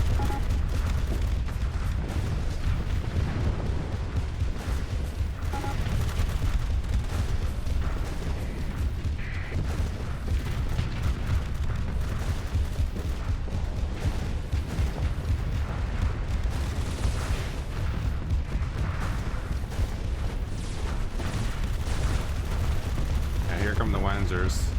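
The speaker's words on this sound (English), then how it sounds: "But wow, micro missiles are working." Dense barrage of missile launches and impacts in a modded Starsector space battle, a continuous loud roar of bursts and explosions layered with game effects throughout, with a voice talking over it.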